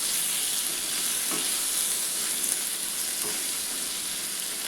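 Tomatoes and bottle gourd curry fry in a pan with a constant loud sizzle, with faint scrapes of stirring showing through the steady hiss.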